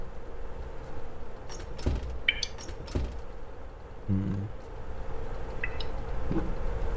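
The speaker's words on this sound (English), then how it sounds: "I hear a leak." Sparse water drips from a ceiling leak in an indie video game, isolated plinks and splashes over a quiet room tone with a faint hum.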